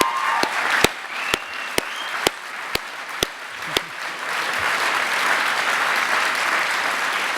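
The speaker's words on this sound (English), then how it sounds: "which I think is worth a round of applause in itself" An award audience at a Headway brain injury awards ceremony breaks into a round of applause, steady massed clapping with a few sharp, loud individual claps standing out near the start, sustained to the end.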